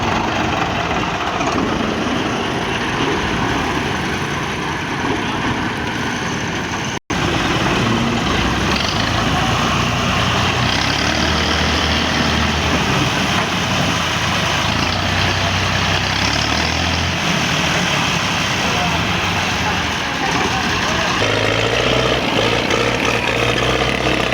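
Two Belarus tractors, a 520 and a 32, haul a trala trailer loaded with 1600 maunds of sugarcane onto a paved road. Their loud, steady engine drone is continuous and close, with no talking.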